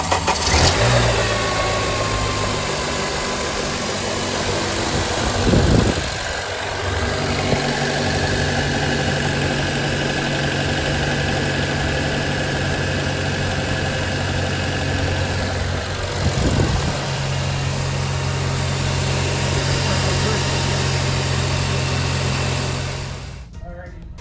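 A 2008 Acura TSX engine runs at a steady, close idle after a gasket replacement, with a couple of brief surges in the rumble along the way and a sudden cut at the end.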